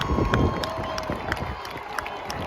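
Stadium crowd at a Yale versus Harvard college football game roaring and cheering after a successful kick, a dense sustained wash of voices with scattered whoops and shouts throughout.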